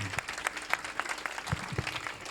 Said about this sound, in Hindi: खुदा की भलाई के लिए जितना जोर है तालियां बजाएं